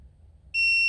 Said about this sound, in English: Oh, that's what it does when you touch the metal part of the setting.